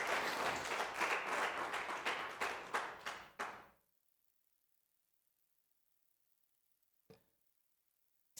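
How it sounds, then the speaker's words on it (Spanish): A church congregation applauds with loud, rhythmic clapping that fades out after about four seconds into near silence, broken only by a single faint knock later on. "Démosle un aplauso al Señor Jesucristo, que es nuestro Dios."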